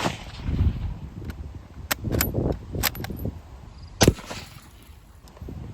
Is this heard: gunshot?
yes